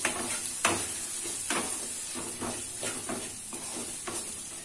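Salt is stirred into sago pulao in a pan: a spoon scrapes in regular strokes over a constant sizzle, up close, with brief louder scrapes recurring every second or so.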